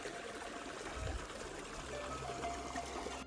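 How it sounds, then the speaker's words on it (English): Little Tesuque Creek near Santa Fe, New Mexico trickles and burbles softly and steadily, faint and close by, with no voices. "Little Tesuque Creek was a nice trail that ran along this tranquil little creek."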